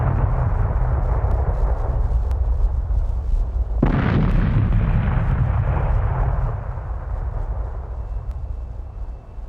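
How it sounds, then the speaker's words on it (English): The robot R.O.T.O.R. explodes in the film with one sudden, loud boom that hits hard and then rolls off into a long, rumbling decay under steady low background noise. It is heard alone, with no talk. "They tie him up, drive in a different direction, and he fucking explodes!"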